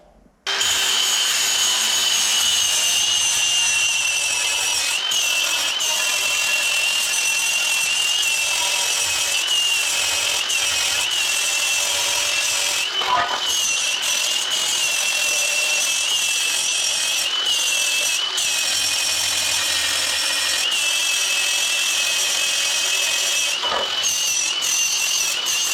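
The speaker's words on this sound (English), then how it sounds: "now I just need to grind this off" An angle grinder grinding down a fresh weld on the rear cross member of a 1975 Land Rover Series 3 pickup chassis, a loud, steady high-pitched metal grind running unbroken for the whole span, with brief dips as the disc shifts.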